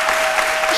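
Applause from an audience at a French-language midday talk, a short steady burst of clapping filling the room without a break.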